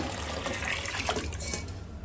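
Water poured from above into a cooking vessel, a brief steady splashing gush, fairly quiet and close with no talking.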